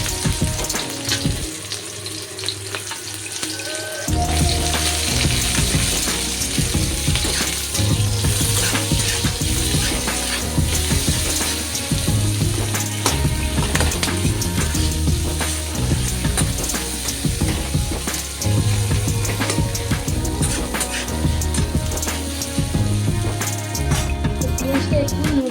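Three dried red chillies frying in a pan, with a loud, steady close-up sizzle and dense crackle running throughout, marked by rhythmic mechanical clicking and scraping.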